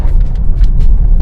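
A 2019 BMW 320i G20 accelerating in second gear, a steady loud low engine and road rumble heard from inside the car, smooth and continuous through the short stretch.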